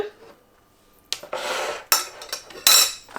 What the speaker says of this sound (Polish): Wrzucamy sobie od razu y, taką połóweczkę pomarańczy.